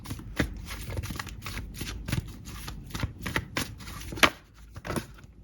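Tarot cards are shuffled in quick, crisp papery bursts, with a rhythmic series of riffles and slaps close up and fairly loud, no voices over them.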